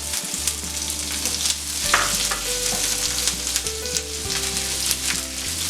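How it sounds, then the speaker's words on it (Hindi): Two medium finely chopped onions hit a pan with garlic for malai kofta, sizzling loudly and continuously with stirring scrapes, under soft background music. "अब हम इसमें डालेंगे 2 मीडियम प्याज बारीक कटे हुए।"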